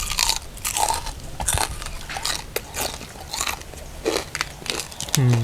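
Loud, close crunching bites into crispy fried pork eaten with papaya salad, repeated sharp crackling chews in an uneven rhythm with some voices in between.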